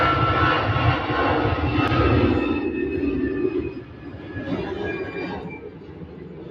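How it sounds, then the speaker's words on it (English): A Boeing 787 Dreamliner jet roars at an airport, heard as a loud, broad engine rumble that fades gradually over several seconds as the aircraft moves away. "Another Dreamliner."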